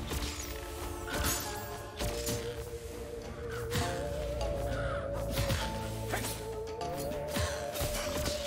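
Crows cawing in the video game Have a Nice Death, repeated harsh caws mixed with thuds, crashes and whacks from game combat over a steady background soundtrack.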